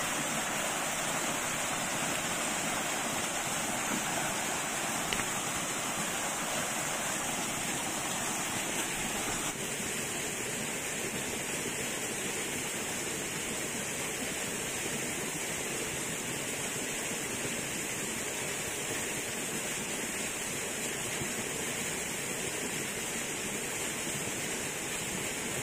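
A cold waterfall stream at Bhotkhola-4, Namase rushes steadily as water is collected, a constant broadband roar that stays near and loud throughout with no pauses.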